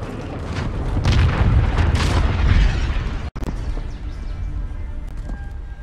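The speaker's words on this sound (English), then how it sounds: "Enemy cruise missile incoming." A cruise missile explodes in a military shooter video game with a deep, rumbling boom that rolls on for about three seconds. It then cuts abruptly to quieter ambience with faint mechanical clatter.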